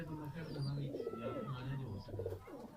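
A Makoya pigeon coos steadily in low rolling phrases on a rooftop loft, close and continuous, with a voice talking over part of it.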